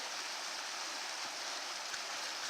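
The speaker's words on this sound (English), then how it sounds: "Water's starting to flow nice under here, eh?" Snowmelt water flows beneath a rocky mountain trail in spring runoff, a steady close babbling rush with faint gurgles, continuous and unbroken.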